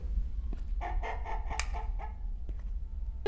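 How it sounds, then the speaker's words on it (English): Chickens in the video game Obenseuer cluck in unison, a short burst of several quick, synchronized clucks fairly faint over a low background hum. "the chickens are synced up. They all cluck at the same time."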